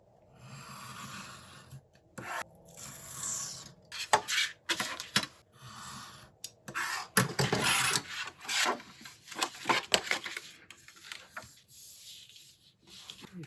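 Scissors cutting paper for a handmade envelope, giving close, irregular bursts of rasping snips and rubbing that come and go with short pauses between cuts.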